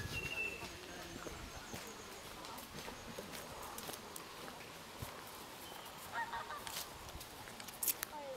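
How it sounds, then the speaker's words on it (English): Geese honk out on a lake, distant and faint, with a few scattered calls over quiet outdoor ambience and light rustling footsteps nearby. "Geese out on the lake there today as well."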